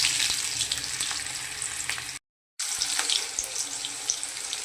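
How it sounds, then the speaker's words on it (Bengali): Chopped onion sizzles with whole cumin seeds in hot oil, a steady close hiss that drops out briefly midway and then resumes. "পেঁয়াজটা ভাজা হচ্ছে"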